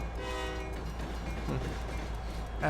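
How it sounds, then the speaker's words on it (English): A train passes in American Truck Simulator, its horn sounding in tonal blasts over a steady low rumble of rolling cars, moderately close. "Oh, it's a train."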